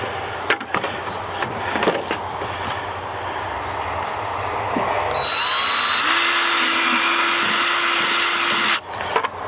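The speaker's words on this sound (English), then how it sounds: "I'm just going to go ahead and drill the rest of these" A power drill whines up to a high, steady spin for several seconds while drilling holes in a chicken waterer, then cuts off, after a few clanks and knocks of handling.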